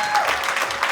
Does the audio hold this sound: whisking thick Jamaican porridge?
no